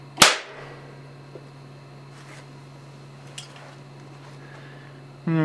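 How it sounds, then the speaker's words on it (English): A capacitor bank discharges through a 5-turn coil to crush an aluminum can, giving one sharp, loud crack near the start, then a quiet steady hum with a few faint clicks. "Here goes the 5-turn can crushing coil. Charging, charged, and fire."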